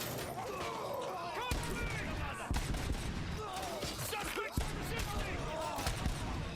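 Gunfire in the Robocop: Rogue City shooter, repeated sharp shots and impacts layered over constant game noise and a talking voice.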